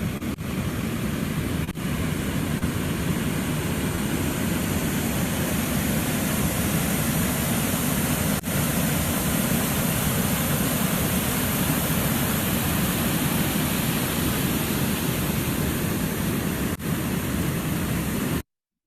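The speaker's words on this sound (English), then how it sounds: "And this is what stormwater sounds like." Stormwater rushes loudly and steadily through Oxon Run, a stream set in a concrete channel. It makes a continuous, dense roar with no pauses or voices.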